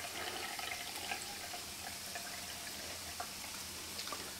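Beef broth poured from a can into a measuring cup, a steady close liquid trickle and splash that runs unbroken throughout with no talking.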